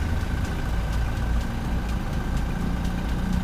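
Diesel engine of a 2017 Toyota Revo 2.8 pickup truck idling close by, a steady low rumble with a faint rhythmic ticking over the top, unchanging throughout.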